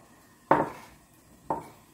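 A knife strikes a cutting board twice while slicing the green tops of a radish for radish pancakes. The two dull, woody knocks are about a second apart, close and clear, with a quiet kitchen behind them.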